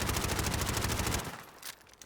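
Uzi submachine gun in a video game firing a rapid, evenly spaced burst of loud, close shots that cuts off abruptly, leaving a brief quiet tail with one faint click.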